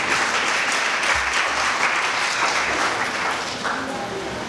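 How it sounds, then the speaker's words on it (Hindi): A large audience applauds during a Hindi speech, with sustained, dense clapping at an even loudness that eases slightly near the end, heard without talk over it. "तालियां।"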